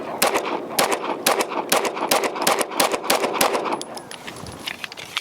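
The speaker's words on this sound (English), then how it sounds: "first rounds again on the B9R DS" Rapid shots from a Tisas B9R DS 2011 pistol at a range, a quick string of sharp, loud cracks with short gaps, followed by quieter clinks and shuffling after the firing stops.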